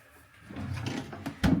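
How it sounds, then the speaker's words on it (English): The wooden drawer of an ottoman slides on its runners with a rumbling scrape that ends in a firm bump as it shuts, close by. "and it has a slidey drawer in it"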